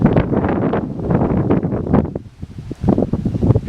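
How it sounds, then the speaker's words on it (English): Extremely strong coastal wind buffets the microphone near Cooktown on the Queensland coast, a loud, continuous rushing roar with gusty surges and no talk. "Oh, the wind coming over. It's extremely strong wind."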